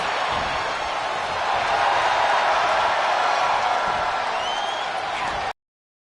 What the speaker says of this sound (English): This capacity crowd is beside themselves tonight.